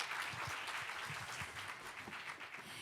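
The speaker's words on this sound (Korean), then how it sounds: "역시 큰 박수 부탁드리겠습니다" A crowd at a regional energy forum in Ulsan claps in a soft, distant, steady patter of many hands, with faint low thumps underneath and no one talking.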